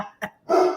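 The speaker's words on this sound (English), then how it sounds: "That's my dog." A dog barks at the mailman, two to three close, sharp barks in quick succession with short gaps between them, loud and clear, with a brief spoken word in the middle.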